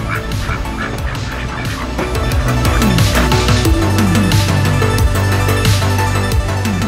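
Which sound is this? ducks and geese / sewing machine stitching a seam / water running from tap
ducks and geese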